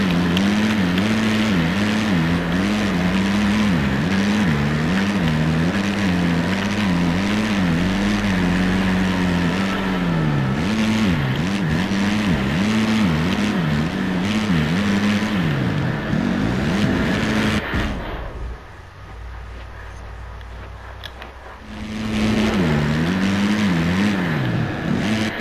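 Motocross bike engines in the racing video game MXGP 2019, a loud continuous whine that rises and falls with throttle and gear changes, briefly dropping away near the end before roaring back.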